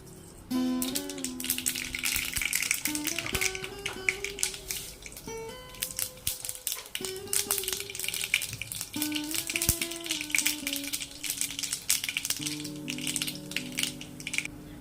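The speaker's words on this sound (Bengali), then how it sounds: "সর্ষেগুলো সব ভালোভাবে ফেটে গেছে" Black mustard seeds splutter in a little hot oil for a Bengali helencha shaak shukto, giving a dense, steady crackle of tiny pops throughout, under soft background music.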